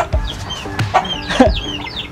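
A native rooster courting a Brahma hen, with quick clucks and short chirping calls from chickens close by on a farm, loud and busy.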